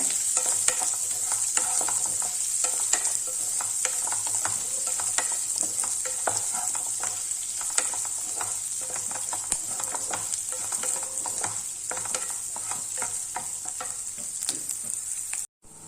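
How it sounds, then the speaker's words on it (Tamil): Onions sauté in a pan with a steady, bright sizzle and frequent quick scraping stirs, moderately close and unbroken by speech until an abrupt cut at the end. "வெங்காயம் லேசாக வதங்கினா போதும்"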